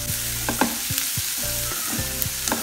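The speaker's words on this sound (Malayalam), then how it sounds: "ഇത് ചെറുതായി ഒന്ന് റോസ്റ്റ് ആയി വരട്ടെ" Onions and curry leaves roast and sizzle in a pan for Kerala clam fry, with a steady close frying hiss and a few soft stirring scrapes at intervals.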